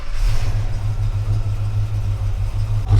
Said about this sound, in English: Sounds lovely with that exhaust noise coming out of that 351 V8 Windsor engine